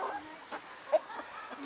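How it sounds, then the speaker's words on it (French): A rooster in a backyard flock gives faint, short clucks, a few soft separate calls over quiet background. "Il dit bonjour le coq."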